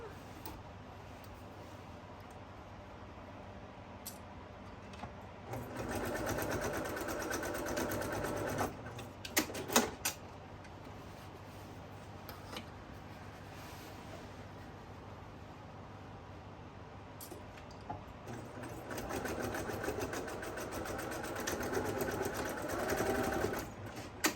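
A sewing machine stitches a handle onto a reversible flat-bottom tote bag, running in two long steady bursts with a pause between them. A faint hum underlies the quieter stretches.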